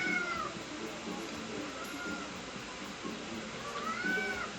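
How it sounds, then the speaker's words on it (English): A pet cat meows a few times in a room, faint rising cries set against steady background noise with low chatter. "Ignore my cat, because I'm going to."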